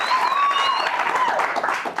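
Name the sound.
audience applauding at a live show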